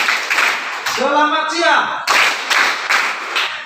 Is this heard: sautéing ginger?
no